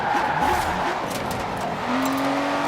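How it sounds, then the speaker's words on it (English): A Maserati driven in a video game gives a steady engine drone with shifting pitch and a rising tone near the end, alongside light game effects and no talk. "Machen wir nur eine kleine Rundreise hier mit dem Maserati"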